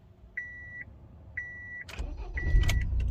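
A Honda Accord CU3 first gives two evenly spaced dashboard chimes as the key goes in, then the starter cranks and the engine fires into a low rumble while another chime sounds.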